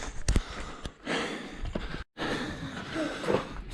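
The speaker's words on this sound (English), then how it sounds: "Excuse the heavy breathing, we don't take breaks." Heavy, rapid breaths and sighs from a hiker pushing up Bryce Canyon switchbacks without rest, close to the microphone, in bursts broken by a brief pause.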